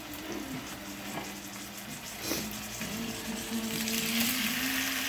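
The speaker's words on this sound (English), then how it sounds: "So what you do is you put your salmon in there, as you can see." Salmon steaks hissing in a hot pan, a continuous moderate sizzle that grows a little louder and denser, with a faint low hum beneath it and no talking.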